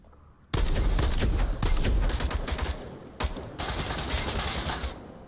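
Bursts of rapid gunfire from the VR shooter game Onward on a Modern Warfare-style map come in loud, dense volleys separated by short gaps, with no speech.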